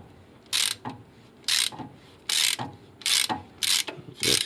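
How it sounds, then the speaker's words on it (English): A half-inch ratchet loosening the gear oil drain plug on a Nissan D21 pickup, five or six loud, close bursts of rapid pawl clicking in a steady back-and-forth rhythm, with no talk. "that's just your 1/2-inch ratchet or breaker bar"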